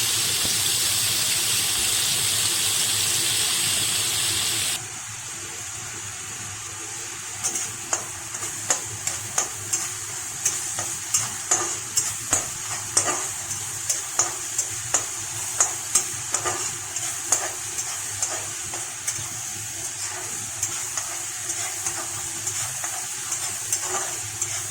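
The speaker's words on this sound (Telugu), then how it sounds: "ఉల్లిపాయ పచ్చిమిర్చి వేసి బాగా వేయించుకోవాలి." Onions and green chilies fry in a pan for an Andhra-style boondhi curry, first a loud steady sizzle, then a quieter hiss broken by a regular run of scraping stirs.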